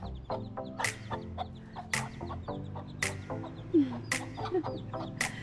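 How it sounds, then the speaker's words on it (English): Hen clucking on a street in Luang Prabang, Laos, with repeated soft clucks and a few sharper calls spread through five seconds, close but quiet, alongside faint background noise. "Hello, hen. Hello, chicken."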